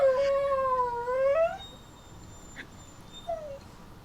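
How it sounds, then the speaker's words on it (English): A dog whines in a long, wavering high-pitched cry that rises and dips for about a second and a half, then falls quiet before a brief, fainter whimper near the end. "There may or may not be dog sound effects."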